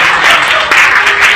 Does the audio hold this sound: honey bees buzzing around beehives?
no